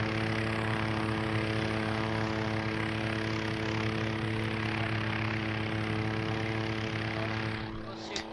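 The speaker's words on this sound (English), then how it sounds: "Okay, that was a helicopter idle." A steady droning helicopter engine idles with a whining, rotor-like tone held constant throughout, fairly close, with no clear voices.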